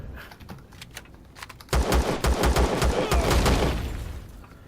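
Turret gunfire in the space game Empyrion, heard inside a weapons factory as loud, rapid automatic bursts that start suddenly after faint distant shots and keep going steadily.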